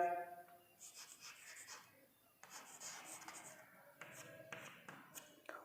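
Marker or chalk scratching across a classroom board in short strokes and taps, fairly faint, with pauses between bursts and a quiet voice now and then underneath.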